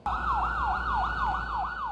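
An ambulance carrying a shooting victim to hospital sounds a loud, close siren in a fast repeating wail, cycling steadily about every quarter second with little else behind it.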